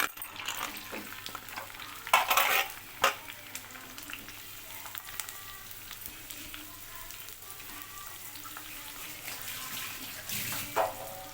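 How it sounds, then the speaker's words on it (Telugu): Chopped onions and green chillies hit hot oil for a boneless chicken gravy, giving a steady close sizzle and crackle with a few louder bursts of spatter and stirring, and no voices. "ఆయిల్ హీట్ అయినాక మనం కట్ చేసి పెట్టుకున్న ఉల్లిగడ్డ పచ్చిమిర్చి ముక్కలు అయితే వేసుకుందాం"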